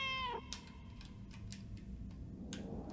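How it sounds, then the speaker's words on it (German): A single cat meow rises and falls in the video game Another Sight, followed by faint ticking clicks and quiet game ambience, with no speech. "Ja, miauen."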